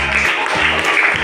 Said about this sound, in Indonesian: Pindah, tepuk tangan.